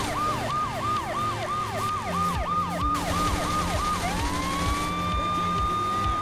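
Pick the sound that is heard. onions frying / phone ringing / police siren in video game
police siren in video game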